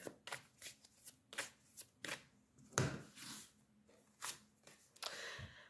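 Tarot cards shuffled by hand in quick, irregular bursts of riffling and flicking, close and fairly loud, with short pauses between the bursts and no talking over them.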